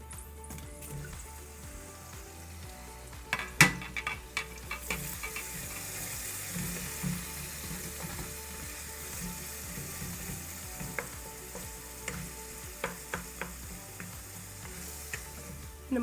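Tomato sizzles and fries steadily in a partly covered pan during a rice with cranberry beans recipe, a constant crackling hiss broken by a few sharp clinks and utensil knocks, with no talking.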